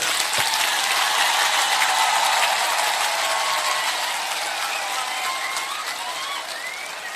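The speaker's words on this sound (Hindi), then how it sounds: "सबसे बड़ा ताली आपको होना चाहिए।" Audience applause at a political speech in Hathai Kotor, a dense, steady wash of clapping that stays loud throughout and tapers slightly toward the end, with no talk over it.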